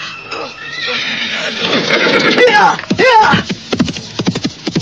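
Horse neighing in an Indonesian radio drama, a long whinny rising over a background music bed with scattered effects, loud and close, ending in a few sharp percussive bursts.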